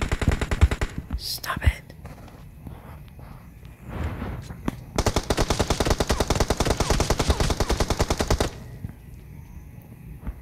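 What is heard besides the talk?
gunfire in a video game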